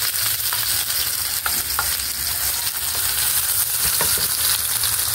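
Garlic and onion sizzling in a hot pan, a loud, continuous close frying hiss with occasional faint clinks from stirring and no talking.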